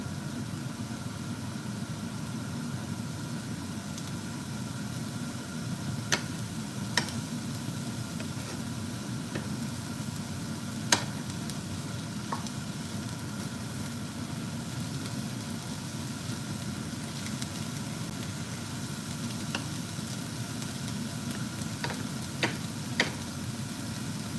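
Onions fry in a small pan toward caramelizing, with a low, steady sizzle and a few faint clicks from stirring, quiet and continuous, with no voices.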